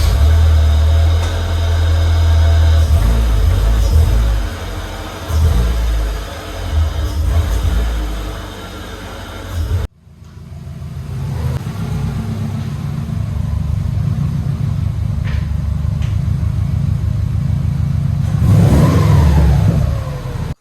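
A 2008 Subaru WRX engine revs hard and drives off, loud and close, with a sharp break midway before the engine note climbs again and holds a steady drone.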